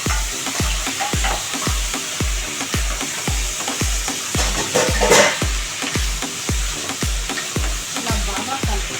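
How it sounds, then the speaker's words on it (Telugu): Potatoes sizzling in oil in a pan for aloo curry while being stirred, with a steady frying hiss and evenly spaced utensil scrapes running throughout, close and fairly loud. "ఆలు యాడ్ చేసుకున్నాక బాగా కలుపుకోవాలి."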